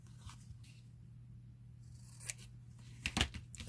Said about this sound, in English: I'm just gonna give my corners a little snip here so this fits on here nicely.